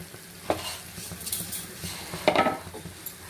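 Dried red chilies, tamarind and sesame seeds frying in a pan for an eggplant masala curry, with a soft steady sizzle, a few stirring scrapes and light clinks of a utensil against the pan.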